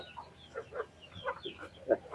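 Chickens cluck softly in short, scattered bursts at feeding time on a farm, fairly quiet and close.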